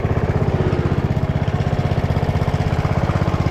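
A John Deere zero turn mower engine, smoking, idles close by with a fast, even chugging pulse that holds steady and loud, alone without talk.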